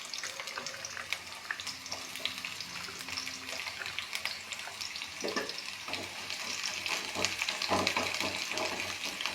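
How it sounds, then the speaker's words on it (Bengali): Chopped onions frying in hot white oil in a frying pan, giving a steady, bright sizzle throughout that swells slightly toward the end, with occasional soft stirring knocks and no talking. "এবার পেঁয়াজ দিয়ে দিলাম।"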